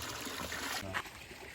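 Water trickles from a small spring or stream found along the Lycian Way hiking trail in Turkey, a soft, quiet, continuous babble with faint splashing close by.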